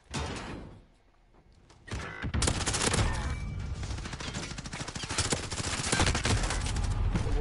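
Automatic gunfire with heavy recoil in a shooter video game: a brief burst, a quiet pause, then a long sustained stream of rapid shots, loud and close.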